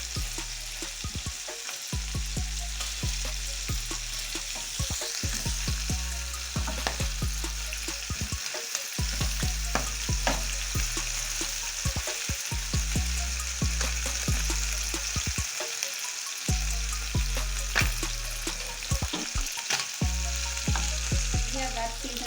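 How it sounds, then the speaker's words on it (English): Honey glazed chicken fries in a pan with a loud, continuous sizzle, broken by frequent stirring and tossing clatters throughout. "Hear that sizzling sound, you know everything is perfect."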